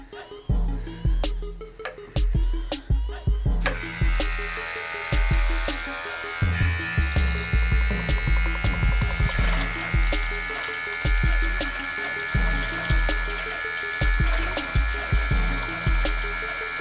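An electric makeup brush cleaner and dryer spins with a loud, steady motorized whir, preceded by a run of rapid rattling pulses as a brush is fitted to the handle.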